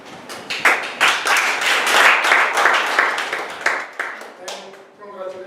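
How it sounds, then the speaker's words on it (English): Audience at a meeting giving a round of applause for a completed project: close, lively clapping from a small group that builds quickly, holds for several seconds and tapers off, with a voice entering as it fades. "So I want to ask you all please to give him a big round of applause"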